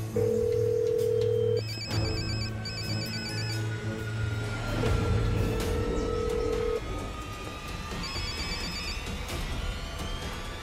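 A telephone call is placed: steady electronic ringback tones and pulsing rings repeat in spaced bursts, fairly loud and close, with background noise and no talk.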